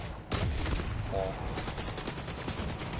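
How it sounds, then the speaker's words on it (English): Gunfire in Fortnite, a loud burst of rapid shots that starts suddenly and keeps rattling, mixed with other game sounds and some voice. "Are you shooting at me?"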